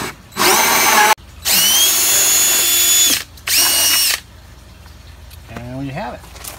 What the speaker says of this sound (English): Forward and we'll drill the hole for the bulkhead fitting.